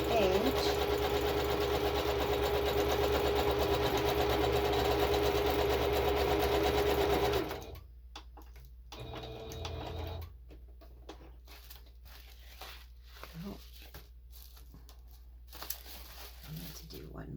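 A sewing machine stitches steadily through a paper journal page for about seven seconds, then stops, leaving quiet room noise with a few faint handling rustles and brief talk.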